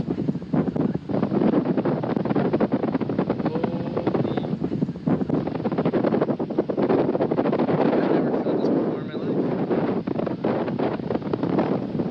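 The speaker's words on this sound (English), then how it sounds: "Whoa, that is some strong wind." Strong wind roars and buffets the microphone during a storm, a loud, continuous rushing blast with gusty surges and no speech.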